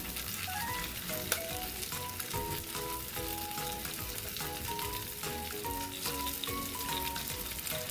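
Beef and broccoli stir-fry seasoned with black pepper sizzles loudly and steadily in a hot pan, a dense, continuous frying hiss heard up close. A tonal melodic line runs underneath, and no one speaks.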